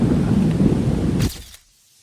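Heavy rain in a storm during an off-grid survival camp, with a loud, dense rumble and roar that cuts off sharply near the end and fades into near silence, with no talking.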